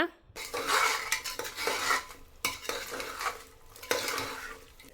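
A metal spoon scrapes and clatters against a pan while vegetables are stirred for cabbage pulao, with irregular close-up clinks and soft sizzling between strokes.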